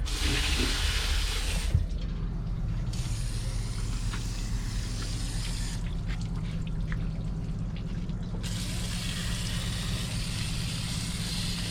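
A Kawasaki STX 15F jet ski is rinsed down with water after use, a constant loud rush of spraying water filling the whole stretch, with brief dips where the stream is interrupted, close by and without talk.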